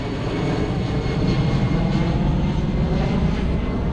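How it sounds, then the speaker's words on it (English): A low-flying airplane near an airport in Malaysia roars steadily overhead, its loud broadband jet rumble filling the whole clip with no speech. "the planes just fly so low and you can hear them so loudly"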